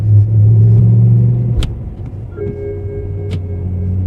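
A car powered by a BMW S85 V10 with a swapped DCT gearbox drives and downshifts: a loud, close engine drone that drops abruptly in pitch at a gear change, then settles into a steadier hum with a brief blip.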